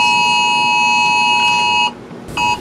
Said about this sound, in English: I just got a freaking weather app alarm.